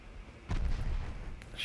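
A naval shell strikes a warship in Ultimate Admiral Dreadnoughts, a single low, heavy boom that swells and rumbles on with a dull muffled tail, followed by a brief sharper crack near the end.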